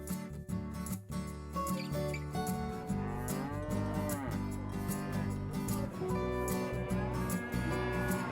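A cow at a livestock market fair in Albania, groomed and prepared for sale, gives long, loud, drawn-out lowing moos that fill the scene over a busy background.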